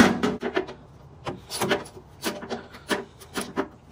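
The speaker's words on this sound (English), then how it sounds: "So let's just get this unscrewed." Ratcheting and rubbing of a wrench loosening a 10 mm bolt deep under a BMW Z4 fender, close up, in short irregular bursts with brief pauses between turns.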